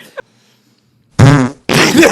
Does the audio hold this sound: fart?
yes